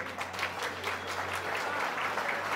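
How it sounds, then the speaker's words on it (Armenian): Audience applause filling a wedding hall, dense steady clapping from many hands for a couple of seconds. "Եվ այս ծափերը խորհրդանշում են, որ դահլիճում շատ եւ շատ են երախտիկի եւ շնորհավորանքի խոսքերը"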